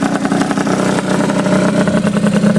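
A Honda DIO scooter fitted with a race pipe exhaust runs loud and close, its buzzy engine note rattling steadily with small rev pulses for a few seconds.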